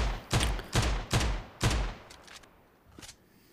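Desert Eagle pistol fired in PUBG, four loud heavy shots in an uneven sequence followed by a couple of fainter distant reports, with no talking.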